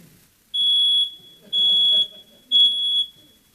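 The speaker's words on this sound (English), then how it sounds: "It's a smoke detector." A smoke alarm sounds three shrill, evenly spaced beeps, each about half a second long, fairly loud in a quiet room.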